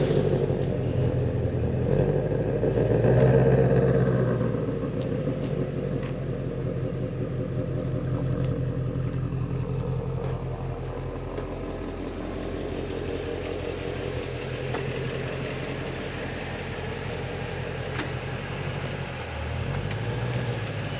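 A 2020 Ford Shelby GT350R runs at a low, steady idle and rumble as it creeps off a transport truck, its engine note close and continuous with faint clatter throughout.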